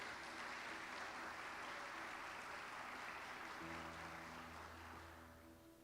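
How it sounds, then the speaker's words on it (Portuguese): A church congregation claps for Jesus during a worship service, a soft, distant wash of applause that slowly fades as sustained musical tones come in near the end. "Quem crê na Bíblia, dá um aplauso para Jesus aí,"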